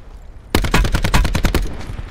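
Rapid burst of automatic gunfire in Call of Duty: Black Ops 4 Blackout, loud and close, starting abruptly after a quiet lead-in and rattling in about a dozen quick shots before trailing off.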